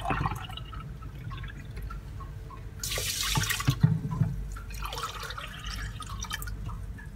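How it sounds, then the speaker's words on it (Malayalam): Milk pours into a pressure cooker holding washed rice for carrot rice payasam, a steady liquid stream with a louder splashing burst midway, close and without talk. "ആ ഗ്ലാസ്സിൽ തന്നെ 8 ഗ്ലാസ് പാലൊഴിക്കാം"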